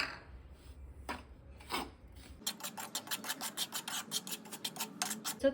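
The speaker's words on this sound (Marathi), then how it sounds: "हे नाचणीचं पीठ आहे ना हे ह्याच पॅनमध्ये मी मंदाच्यावर छान भाजून घेते" Ragi flour is stirred and roasted in a pan on low heat, a utensil scraping the pan in a few slow strokes and then a quick, rhythmic series of close, dry rasping scrapes.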